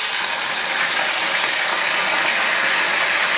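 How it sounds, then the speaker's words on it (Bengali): Dried red chillies and whole garam masala frying in hot oil, a loud, steady broadband sizzle that holds evenly throughout with no pauses and no talking. "এবার এই গরম তেলের মধ্যে এই দুটো শুকনো লঙ্কা ফেলে দেব, আর দেব এই গোটা গরম মশলা।"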